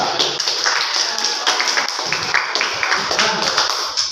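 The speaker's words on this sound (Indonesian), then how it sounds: "tepuk tangan untuk Mas Pia" A classroom of students clapping for a classmate, a dense brisk patter of hands at close range lasting the full few seconds.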